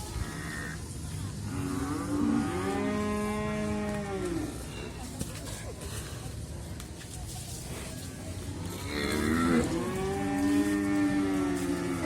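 Cattle at a livestock market in Muntilan, Magelang, Indonesia, letting out two long, loud, close moos several seconds apart over a busy background murmur.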